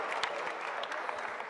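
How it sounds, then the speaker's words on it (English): A conference audience applauds at the close of an open session, a brief, soft patter of many hands heard from a distance. "Let's give them a big round of applause."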